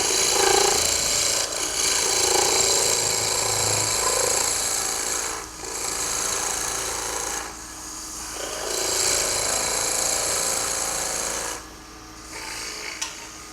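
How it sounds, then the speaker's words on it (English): A sharp skew chisel cuts a wooden salad fork spinning on a lathe, shaping a straight taper: a loud, steady rasping hiss in several long passes of a few seconds each, separated by brief pauses. "a good sharp skew in this case will give you almost a final finish here"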